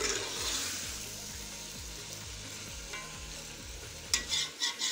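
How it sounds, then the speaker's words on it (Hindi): Potatoes frying in a pan for an Afghan grasshopper-and-meat dish, a steady close sizzle with regular rhythmic stirring scrapes, a few louder clatters near the end. "अब मैं पोटैटो को फ्राई करूँगी 2 से 3 मिनट के लिए।"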